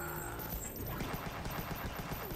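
Continuous rapid gunfire and a dense fusillade from the video game Huntdown, loud and close, with no talk.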